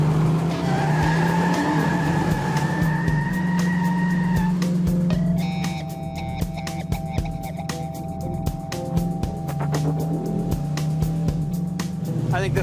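A restored 1971 Plymouth Road Runner muscle car drives with its engine droning loudly while tires squeal in long skids, with sharp clicks and thumps scattered through.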